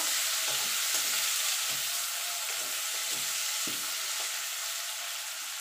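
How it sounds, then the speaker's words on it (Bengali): Chopped onions fry in a pan with a steady, loud hissing sizzle, broken by soft scraping knocks of stirring at irregular intervals, with no talking. "পেঁয়াজটাকে একটু ভাজা ভাজা করে নেব।"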